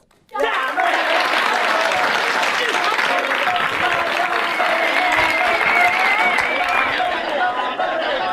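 Audience applause for a speaker at an ExxonMobil EM Talk, breaking out suddenly and holding as a dense, loud wash of clapping with some crowd chatter for several seconds.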